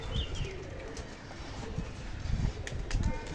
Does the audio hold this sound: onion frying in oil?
no